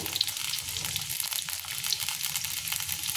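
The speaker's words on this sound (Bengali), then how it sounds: "এবার পটলটাকে ভাজতে দিয়েছি পটল আলু একসঙ্গে ভেজে নেব" Pointed gourd frying in a pan makes a continuous bright sizzle with fine crackling throughout, close and fairly loud, with no one talking.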